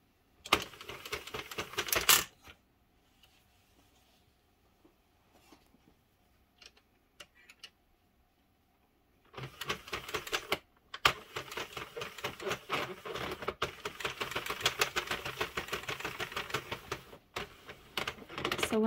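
An Addi Sentro circular knitting machine knits a round with rapid clattering, ticking needle clicks in bursts, loud at the start, then a quiet pause with faint ticks, then a longer busy stretch of mechanical rattling.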